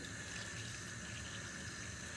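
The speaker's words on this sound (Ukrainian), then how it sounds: "заливаю гарячою водою" Hot water pours from a kettle over cabbage in a home kitchen, a steady, close gushing splash that runs unbroken without any talking.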